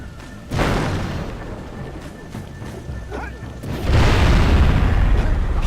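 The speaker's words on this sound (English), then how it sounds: "Blow stuff up with the power of yellow fire." An explosion set off with yellow eco fire in Jak and Daxter: The Precursor Legacy in the Boggy Swamp, a loud booming blast followed by a second heavy rumbling burst, with a voice talking over the game.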